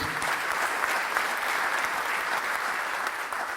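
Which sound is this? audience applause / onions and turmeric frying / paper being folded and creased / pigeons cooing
audience applause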